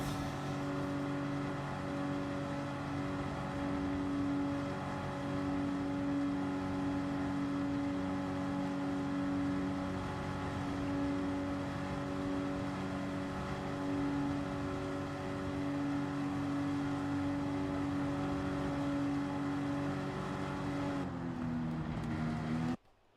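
Group 4 Porsche race car in Gran Turismo 7, racing at Sainte-Croix: a steady, loud engine drone with strong harmonic tones held for about twenty seconds, then the pitch drops as it backs off and cuts out near the end.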